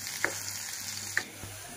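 Frying on a gas stove, with a steady sizzle of food being browned until reddish and a couple of sharp stirring clicks against the pan, alone without talk.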